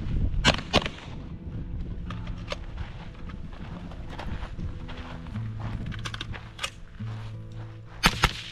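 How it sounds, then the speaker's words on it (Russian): Rifle shots ring out during firearms shooting drills: a quick pair of sharp cracks near the start, a few scattered single reports through the middle, and another close pair at the end, over faint background rustle. "2 выстрела."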